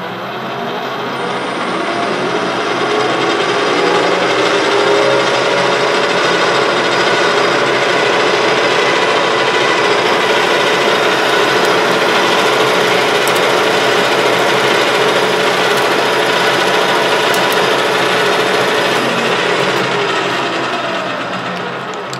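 A metal lathe turning a gearbox shaft, a steady loud mechanical whir and hiss of cutting that holds evenly for about twenty seconds before easing off slightly at the end.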